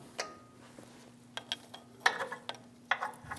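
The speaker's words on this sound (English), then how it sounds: "Fully remove that 13mm bolt and remove the brake line." A wrench works loose a 13mm bolt on the brake line of a 2011-2018 Ram 1500, giving scattered close ratcheting clicks and small metallic taps, sparse and fairly quiet, with no voices.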